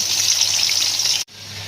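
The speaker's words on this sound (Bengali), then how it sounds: "কড়াই গরম হয়ে গেছে, তেল দিয়ে দিয়েছি, মাছটা দিয়ে দিব" Loud, steady sizzling hiss of small puti fish frying in hot oil in a kadai, cut off abruptly before a quieter, softer sizzle continues.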